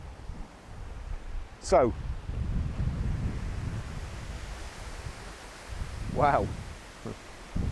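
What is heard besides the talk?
wind blowing outdoors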